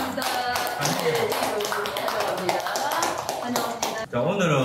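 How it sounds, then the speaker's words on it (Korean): A church congregation clapping in welcome during a Sunday morning service, brisk rhythmic clapping close by, with a voice speaking briefly near the end. "우리 성도님을 위하여 우리 환영의 박수."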